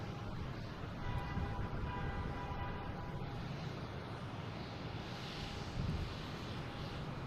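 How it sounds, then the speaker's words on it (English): A JetBlue Airbus A220 airliner landing at Boston Logan sounds as a faint, distant engine rumble with a thin steady whine, low and even throughout, without talk. "We got a JetBlue coming in from West Palm Beach in a 220, flight 822."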